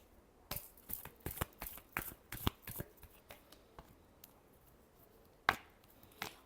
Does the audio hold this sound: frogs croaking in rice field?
no